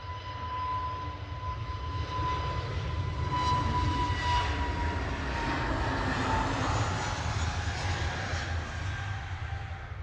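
An EasyJet airliner rolls for a night takeoff at Manchester Airport, its engines a steady, distant broadband roar with a faint tonal whine that holds without a break.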